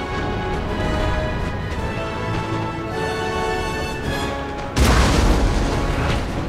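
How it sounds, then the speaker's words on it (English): Napoleonic cannon fire in the Napoleon Total War battle of Dresden: distant artillery rumbles and muffled booms under battle noise, then one loud, close cannon shot bursts out near the end. "There goes a regular cannon shot into that Jaeger unit."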